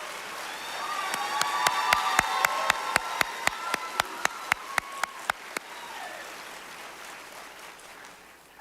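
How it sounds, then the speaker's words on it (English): At a nurse pinning ceremony, a steady crowd murmur carries a run of about twenty sharp, evenly spaced claps that gradually slow and then stop, leaving the room noise behind. "Will the nursing faculty and support staff at Pensacola State College please rise? You all deserve a round of applause."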